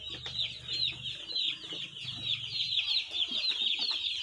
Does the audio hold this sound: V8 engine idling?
no